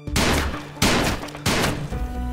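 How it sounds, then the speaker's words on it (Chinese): Gunfire in a tense drama scene at a wooden cabin: three sharp, loud gunshots spaced roughly 0.7 seconds apart, each with a broadband crack followed by a brief ringing decay, with no talking. "然后没有废话直接开枪。"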